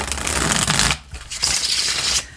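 Tarot cards being shuffled by hand in a rapid riffling burst, then a short pause and a second stretch of crisp, papery card shuffling, close and loud with no talk.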